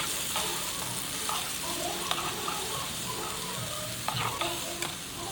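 Onion, green chili, garlic and ginger paste sautés in hot oil, a steady close sizzle with occasional spoon scrapes and clinks against the pan, no voices.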